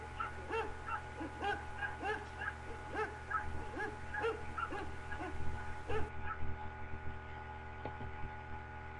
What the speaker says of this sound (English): And we can also listen to the dogs bark.